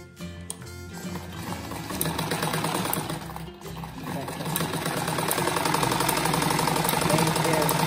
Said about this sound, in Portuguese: Só um pedacinho pra costurar.